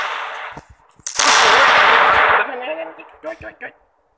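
Gunfire in the mobile shooter game Standoff, with a sudden dense burst of shots lasting about a second followed by a few scattered sharp pops, loud and close.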